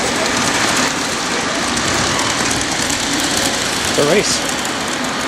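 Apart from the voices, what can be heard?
small trains delivering food in a restaurant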